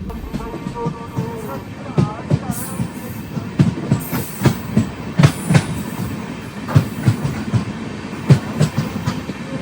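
An express train with LHB coaches rolls along at a steady pace, its wheels thumping in regular clickety-clack beats over rail joints beneath a constant rumble, with a faint voice nearby.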